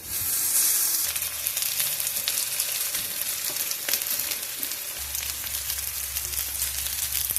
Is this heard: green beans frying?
yes